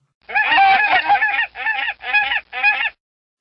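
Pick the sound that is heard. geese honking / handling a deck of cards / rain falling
geese honking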